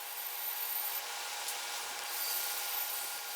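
A bandsaw cuts a run of repeated wood pieces, giving a steady, fairly quiet high-pitched hiss of blade through timber that barely changes over a few seconds, with no voices.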